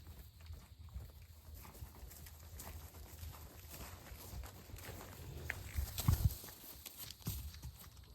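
Hooves clip-clop at a walking pace on hard ground, fairly quiet and close, with a few louder thuds and scuffs midway.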